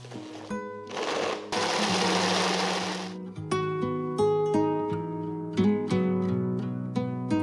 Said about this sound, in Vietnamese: Xay nhuyễn hỗn hợp nha các bạn.